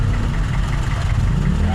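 Car engines idle in heavy, stalled traffic, a steady close low rumble with layered humming tones that holds constant throughout, with a voice faintly present.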